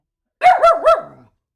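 A dog barks three times in quick succession, close and loud, each bark tonal and slightly whiny, trailing off into a short fading whimper.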